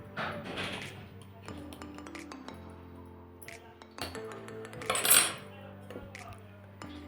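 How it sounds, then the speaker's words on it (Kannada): Rava vada batter with chilli flakes and salt being mixed with a spoon in a bowl, a series of close, bright clinks and scrapes of metal against the bowl, irregular and separated by short pauses. "ಇವಿಷ್ಟನ್ನು ಚೆನ್ನಾಗಿ ಮಿಕ್ಸ್ ಮಾಡ್ಕೋಬೇಕು."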